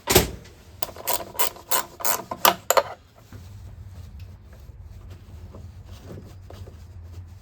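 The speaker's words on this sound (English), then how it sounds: "now let's put this underbolt in and tighten that one up as well" A ratchet clicks in several quick bursts while tightening an under bolt on a car with an air leak, close and crisp for about three seconds, then giving way to a low steady hum.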